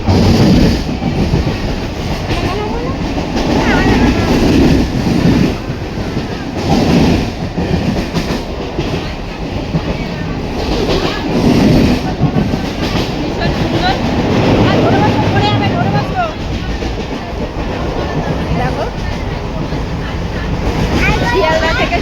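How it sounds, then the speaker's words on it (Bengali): A train pulling out of Sealdah station, heard from inside the carriage: a continuous rumbling clatter of wheels and a rocking carriage, with chatter from passengers nearby. "শিয়ালদা থেকে সবে ট্রেনটা ছাড়লো।"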